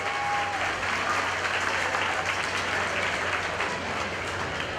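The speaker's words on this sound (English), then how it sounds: "big round of applause for these four individuals" Audience applause at a 4-H and FFA market hog show at the Lawrence County Fair in Ohio, a steady, dense round of clapping that holds evenly throughout with a faint tone near the start.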